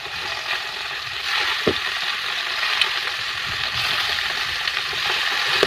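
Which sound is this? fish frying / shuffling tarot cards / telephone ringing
fish frying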